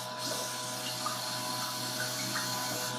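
A Toto C100 Washlet bidet sprays water in a steady, close hiss with a faint motor hum underneath, continuous and even throughout.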